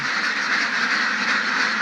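Ducks on a farm quack continuously in a dense, loud chorus, many birds calling at once without pause and no voices.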